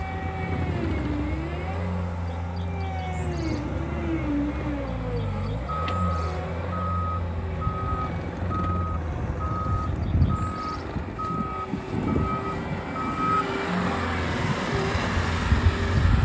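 A Bobcat skid steer rumbles and maneuvers close by, its diesel engine revving up and down while a steady series of reversing beeps pulses through the middle, with no voices.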